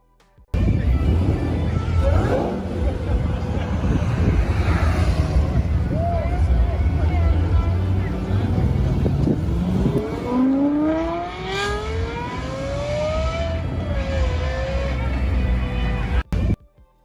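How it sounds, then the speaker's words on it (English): A Lexus LFA engine and exhaust rev and accelerate through rising gear pulls, the pitch climbing sharply then dropping between shifts, loud and close, with voices murmuring underneath and a final sharp cut near the end. "Lexus LFA sound"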